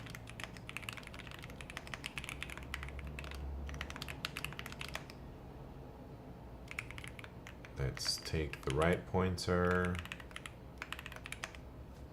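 Steady clicking on a Bubble 75 computer keyboard runs close and continuous, then grows louder and busier near the end while someone talks over it.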